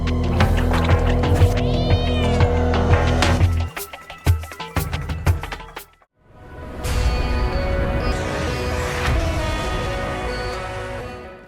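A curious little cat meows in a PS5 indie exploration game, short mewing calls over a loud, dense game soundtrack, with a brief drop-out before the music swells again.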